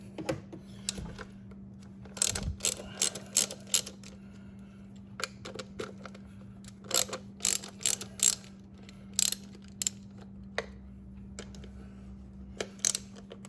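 An 8mm socket on a ratchet backs a bolt off a 2013 Ram 2500 6.7L turbo diesel CCV filter housing, giving repeated bursts of close, crisp ratcheting clicks over a steady low hum.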